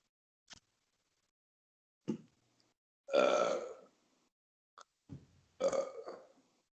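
Several loud burps from a man drinking beer, two long throaty belches among short grunting bursts, spaced out with silence between them and no talk over them.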